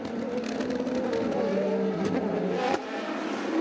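GT1 race cars, including a Lamborghini and an Aston Martin, racing at Spa during the 2009 Le Mans Series 1000 km, a loud, continuous engine roar that rises and falls as the cars pass close by.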